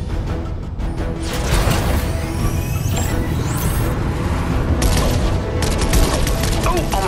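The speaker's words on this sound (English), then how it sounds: "I was hoping we'd have an excuse to try out the Battle Bus's laser cannons." Battle Bus laser cannons in the video game Fortnite firing at drones: rapid dense zapping bursts over a loud rumbling bed, with game voices and effects mixed in.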